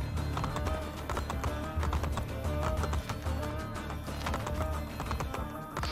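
Horse hooves gallop in Assassin's Creed: Brotherhood on PS5, a dense, continuous patter of clattering beats over low game rumble and music, steady and fairly loud throughout.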